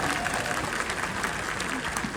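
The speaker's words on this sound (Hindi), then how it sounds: "तो एक बार जोरदार ताली होनी चाहिए" Audience applause at a Hindi-language seminar or business event, a dense, steady wash of many hands clapping throughout, with crowd noise mixed in.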